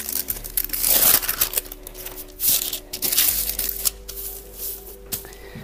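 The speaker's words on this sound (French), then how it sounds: "On enlève bien entendu notre papier cuisson." Baking paper peeled away from a slab of homemade peanut nougat, giving a run of close, papery crinkles and soft tearing rustles in uneven bursts, with no talk.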